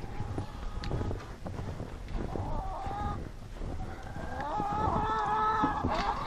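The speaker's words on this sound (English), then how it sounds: "Scared the chicken." A startled hen clucks in a hay-bedded chicken coop during egg collecting, her sharp calls rising into a rapid, agitated burst over faint background rustling.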